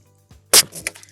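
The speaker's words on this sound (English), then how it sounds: "So that's the sound of the valve closing." An inflatable paddleboard pump valve snaps shut as the hose is unplugged, giving one sharp hissing pop followed by a brief softer click, close and alone in near silence.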